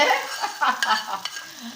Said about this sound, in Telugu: యుద్ధానికి సిద్ధం అన్నట్లు పప్పులో తాలింపు వేసేద్దాము